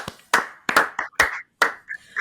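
A handful of sharp hand claps, about five, spaced unevenly over a couple of seconds, close and fairly loud with no talking.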